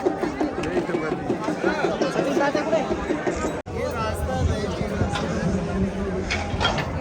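Pilgrims crowd together at Kedarnath temple, a steady babble of many overlapping voices close around, with footsteps and movement mixed in; one sharp break midway before the chatter resumes.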